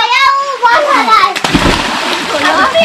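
Kids swimming in a farm well beside an areca nut orchard splash the water, a burst of nearby splashing mixed with children's excited voices and chatter throughout.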